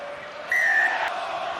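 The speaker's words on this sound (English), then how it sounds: "Crowd loving this" A rugby crowd at an Ulster versus Benetton URC match cheers loudly in a sustained, distant roar, swelling sharply partway through with a whistle-like tone on top, continuing to the end.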